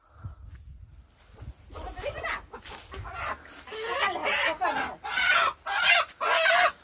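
A local village rooster clucks and squawks in agitated bursts while being caught, growing louder and more frantic toward the end, mixed with people talking nearby.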